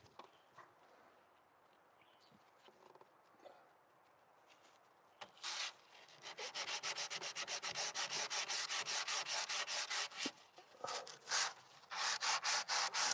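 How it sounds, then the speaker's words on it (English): Small round sandpaper discs rub across a wooden cabinet in steady, rapid back-and-forth strokes, close and fairly loud, with a few short pauses and quieter scraping at the start. "I should be using squares of sandpaper instead of these little expensive circles"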